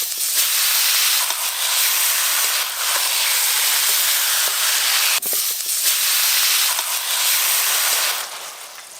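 Boiled kochu shak (taro greens) with salt and turmeric sizzles loudly in the pan while being stirred, for a dish cooked with dried shrimp. The hiss is a steady, close, broadband crackle with brief dips and a few sharp scrapes.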